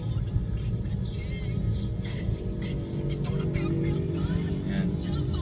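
Heavy, congested street traffic in Novaliches Bayan, with tricycles weaving from left and right, makes a steady low rumble of idling and creeping engines, close and continuous, with no clear speech over it.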